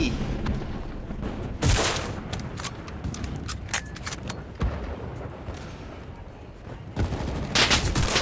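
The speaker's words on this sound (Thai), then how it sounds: "มันยิงผม มันยิงผม" Gunfire rattles in the shooter game Enlisted, with dense bursts of shots and a few louder close bangs over a noisy battlefield, loud and continuous throughout.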